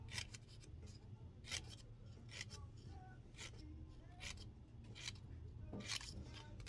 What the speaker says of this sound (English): you can cut a little fringe here like so